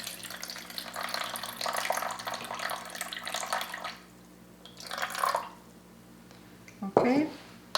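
Lukewarm water is poured into a container to feed a sourdough starter, a soft continuous trickle followed by a short second pour and a brief splash, heard close and faint.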